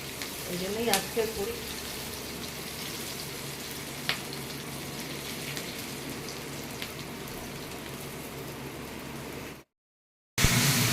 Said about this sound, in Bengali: পেঁয়াজ ভাজা ভাজা হয়ে গেছে কষিয়ে নিয়েছি